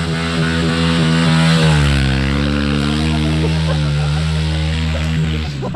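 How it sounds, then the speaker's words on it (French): A motorcycle engine revved hard and held at high revs, loud and close, a dense droning roar whose pitch wavers and climbs slightly without letting up for about six seconds. "Le gars est là pour broyer la moto."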